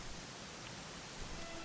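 Steady rain falling in Dragon Quest XI, an even, continuous hiss of downpour at a quiet level with no other sounds breaking through.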